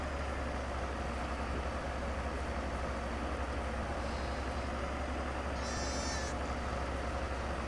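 Sheep in Farming Simulator 22 give a short bleat near the six-second mark, rising over a steady low rumble of farm machinery that runs through the whole scene, with no talk.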